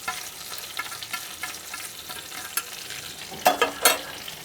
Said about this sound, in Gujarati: મસાલો નાખીને ભેળવીને બરાબર હલાવીશું